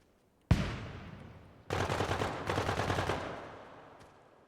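Enemy gunfire in a video game: a single sharp shot rings out, then a bursts of rapid automatic fire, two long volleys with a brief gap, fading out into a faint final shot.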